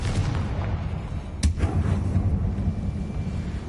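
A Confringo blast spell fires in Hogwarts Legacy, giving one sharp explosive burst about midway over a steady low rumble of game ambience.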